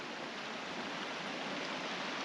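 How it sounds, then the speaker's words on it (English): A river near Silverton flows steadily as a broad, even rushing wash of water, loud and constant throughout with no voices. "And then we got the river over here."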